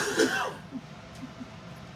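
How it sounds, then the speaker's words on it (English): A person gives a short, rough cough or throat clear at the start, followed by a few faint quiet sounds. "You're making me cough too hard."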